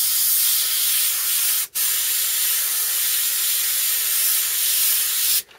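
A steady, continuous airbrush hiss sprays paint onto a T-shirt, unbroken except for two brief cutoffs where the trigger releases, close and even throughout with no talking.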